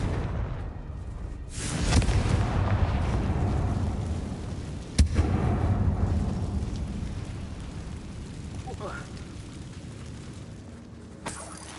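Fire spell explosions in Hogwarts Legacy: a heavy rumbling blast that swells and sustains, followed by a second sharp boom with a long crackling, rain-like decay, loud and alone without voices.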